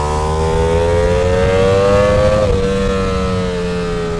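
Motorcycle engine held in first gear and revving high with no gear changes, a loud sustained whine that climbs steadily, dips briefly, then carries on strongly and close.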